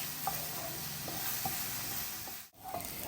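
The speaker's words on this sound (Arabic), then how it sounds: "غنشحر هاد البصيله مزيان حتى كتدبل" Chopped onion fries in a pan with a steady close sizzle, while a spoon stirs and scrapes through it at regular intervals.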